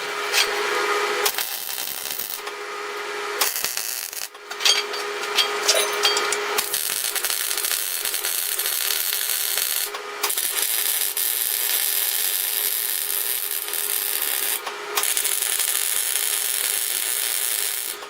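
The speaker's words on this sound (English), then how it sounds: "So I'm going to tack it here and then flip around and do the other side." Tack welding steel for a motorized bead roller: a steady broadband crackling hiss runs nearly throughout, broken by a few short pauses between tacks, close and fairly loud with no talk.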